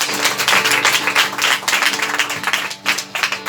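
Church congregation applauding during a Pentecostal worship service, a moderately loud, steady wash of hand claps with some dips, no clear voices over it.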